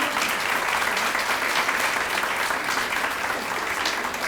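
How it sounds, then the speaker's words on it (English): An audience at an elementary school's 60th anniversary celebration claps loudly and steadily throughout. "so let's give that a round of applause."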